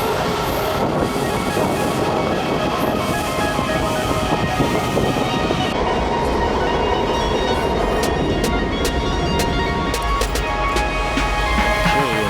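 A Washington DC Metro train at Rosslyn station, heard as a steady rumbling rail roar with wind-like rushing that holds throughout, ending in a run of sharp metallic clicks and squeals near the close.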